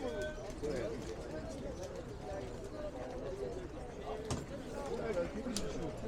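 Pigeons coo softly amid a busy, noisy crowd at the Edirnekapı bird and pigeon market, with chatter and market bustle throughout.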